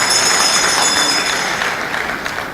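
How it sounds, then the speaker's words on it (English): Audience at a Bayelsa State town hall meeting applauding for Mrs. Jane Alec, a steady dense wash of clapping that holds loud throughout and eases slightly toward the end, with no voices. "Clap for her, Mrs. Jane Alec."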